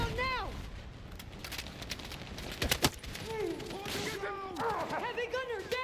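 Heavy gunfire in the Battlefield 6 campaign mission Always Forward: a dense spell of close shots around the middle, over a steady roar of battle noise, with soldiers' voices shouting throughout.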